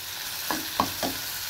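Potato, bitter gourd and eggplant with onion and green chilli frying in a pan, a soft steady sizzle broken by three quick scraping stirs.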